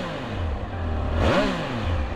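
A Triumph Speed Triple 1200RS motorcycle accelerates hard with the engine rising sharply in pitch, a close, loud surge peaking mid-clip over steady wind and road noise.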